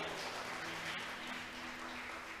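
A church congregation applauds in a steady, dense patter of many hands clapping, moderately loud and continuous throughout without pause.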